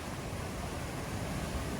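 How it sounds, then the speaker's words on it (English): Turbulent Niagara River rapids below the falls roar on without pause, a dense, close wash of rushing whitewater that stays even and loud throughout, with no one speaking. "All of this water just went over Niagara Falls."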